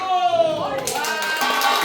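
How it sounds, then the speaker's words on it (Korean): A voice trails off, then an audience of elders at a day-care birthday celebration with a traditional song performance breaks into clapping that builds and continues under ongoing talk. "박수!"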